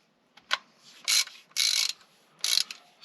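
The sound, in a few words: wrench and socket turning engine crank pulley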